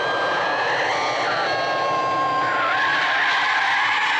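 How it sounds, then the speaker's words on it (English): Tires squeal in a long, loud skid during a car crash scene in the Hammer film Blood from the Mummy's Tomb, a steady wailing screech that wavers in pitch throughout. "only the car crash obviously showing the confusion of Holt's leftover footage"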